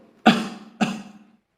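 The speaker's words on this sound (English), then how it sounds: "we are supposed to cough into our elbow" Two sharp, close coughs about half a second apart, each trailing off quickly into silence.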